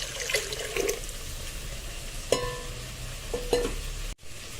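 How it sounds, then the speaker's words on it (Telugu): Tamarind juice is poured into ground dal, soft liquid splashing and stirring with a few small clinks of a utensil, close and fairly quiet, ending with a brief knock. "ఇప్పుడు ఈ చింతపండు రసాన్ని రుబ్బి పెట్టుకున్న పప్పులోకి తీసుకుంటున్నాను."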